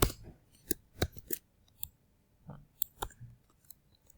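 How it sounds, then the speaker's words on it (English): Sharp, crisp crinkles and snaps of a sheet of paper being handled and folded, a quick cluster of close, dry clicks and rustles with short pauses between them, no voice. "So if I take this and fold it once,"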